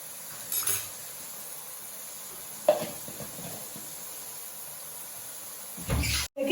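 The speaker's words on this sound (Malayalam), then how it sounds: "എല്ലാം കൂടി മൂക്കട്ടെ. വെളുത്തുള്ളിയും പച്ചമുളകും എല്ലാം നന്നായിട്ട് നന്നായിട്ട് വാടിയിട്ടുണ്ട്." Garlic and green chillies for a bilimbi pickle fry gently in a pan, producing a faint, quiet sizzle with a few stirring scrapes and clinks of a spoon against the pan.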